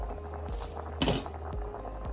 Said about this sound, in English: this has been boiling now for about 40 minutes